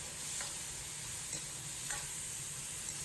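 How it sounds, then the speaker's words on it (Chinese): Stir-frying in a wok after a splash of light soy sauce over ginger, chili and celery for a Hunan garlic-scape pork dish: a quiet steady sizzle with a few faint spatula scrapes and taps. "简单翻炒扒拉1-2下，烹入少许生抽酱油"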